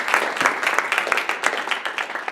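Audience applause welcoming a speaker at a talk on honeypots, a dense burst of many hands clapping that carries on steadily and stays fairly loud throughout.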